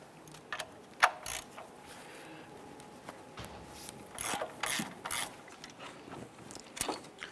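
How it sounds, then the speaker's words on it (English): Ratchet with an 18mm socket working an engine mount bolt loose on a 2008-2013 Nissan Rogue, giving a few scattered short clicks and metallic clacks at close range, with no talking. "use an 18mm socket to loosen and remove this mount bolt right here"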